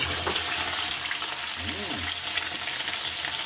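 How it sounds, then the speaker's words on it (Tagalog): Chicken pieces frying in hot oil give a steady, loud crackling sizzle that runs through the whole stretch, with a brief hum or voice-like sound partway through. "Yan na kaili, mainit na yung mantika natin. Umpisa na natin kaili i-fried ang ating chicken."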